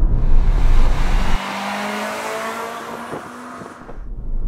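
A front-wheel-drive Toyota Celica VVTLi with a 1.8-litre, 190 bhp engine is driven hard: a loud, strained engine roar drops sharply at a shift, then climbs again as it pulls.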